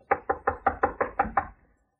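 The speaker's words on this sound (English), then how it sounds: "Here's his room. I'll knock." Knuckles rapping on a hotel room door in an old radio drama, eight firm, evenly spaced knocks close by, then quiet.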